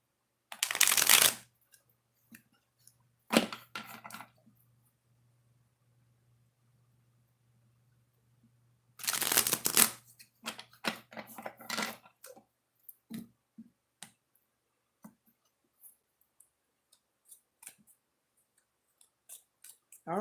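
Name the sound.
oracle cards being shuffled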